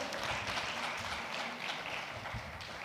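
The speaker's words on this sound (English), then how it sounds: "A round of applause for our robot friend here." A small audience applauds a robot at a productivity event, steady sustained clapping filling the whole stretch at moderate distance, slowly tapering.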